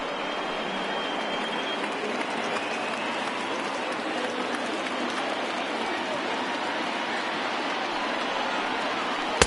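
A big baseball stadium crowd of some 39,000 fans at an MLB Opening Day game roars and cheers in a steady, dense wash of noise that carries on without a break.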